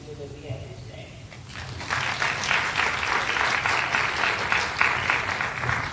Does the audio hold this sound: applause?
yes